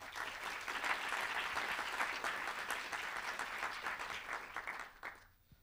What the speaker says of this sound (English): So give a round of applause for our panel.